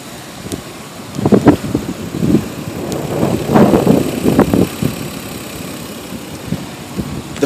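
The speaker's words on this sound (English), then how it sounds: "I went ahead and started the car so you could get an idea of" A Lexus IS300 engine idles quietly, a low steady hum with some wind buffeting the microphone and a few brief louder surges.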